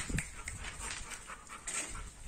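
A female dog pants and whimpers close by, with steady breathy puffs and occasional thin whines over a noisy background.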